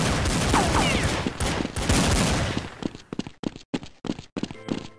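Gunfire in the Counter-Strike video game on the de_westwood Wild West map rings out as a dense volley of loud shots, then thins into separate sharp cracks with pauses between them.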